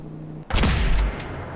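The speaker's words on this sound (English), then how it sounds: "Got a scoped laser musket. Give it a couple of cranks." A scoped laser musket in the video game Fallout 4 is cranked and then fires: a faint low hum gives way to one loud, sharp energy discharge with a bright crackling zap that rings on for about half a second before dropping back.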